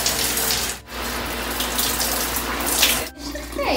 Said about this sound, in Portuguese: Vou esperar esquentar um pouco a água. A chuveirinha é mais quente